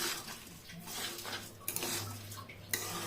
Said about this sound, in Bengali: চালগুলো ভালোভাবে ভেজে নেব। 3 থেকে 4 মিনিট চালগুলোকে ভেজে নিতে হবে।